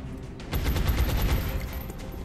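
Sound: light machine gun fire in XCOM: Enemy Within Long War video game

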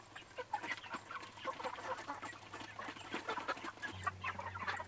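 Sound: roosters and chickens clucking

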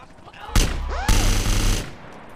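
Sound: sniper rifle shot in a video game

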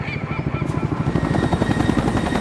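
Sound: helicopter in the video game XIII

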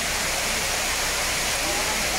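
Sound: Sai Yok Noi waterfall flowing

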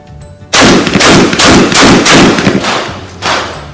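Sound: rapid shotgun fire, Remington 11-87, five shots

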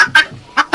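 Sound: guinea fowl calling

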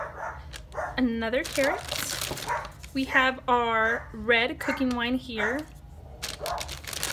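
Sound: dog barking

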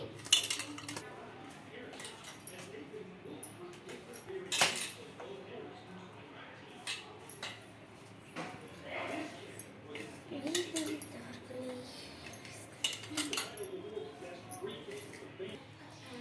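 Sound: mixing Balamrutham flour dough with ghee in a bowl

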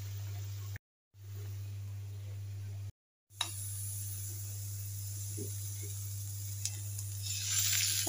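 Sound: prawns cooking in a pan, sizzling

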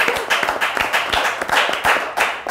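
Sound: audience applause

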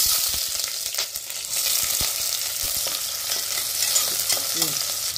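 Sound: onions frying in oil until golden brown

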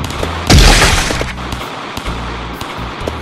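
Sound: sniper gunfire in a video game

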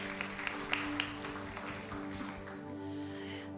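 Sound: church congregation applauding

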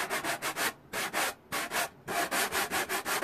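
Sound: sanding block sanding a wooden dollhouse wall

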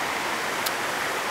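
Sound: river water pouring over a dam

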